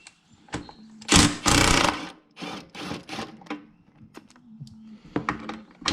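A power tool runs in several short, loud bursts as it zips out two 12mm bolts holding a bracket on the exhaust of a 2022 Yamaha, with brief pauses and clicks between runs.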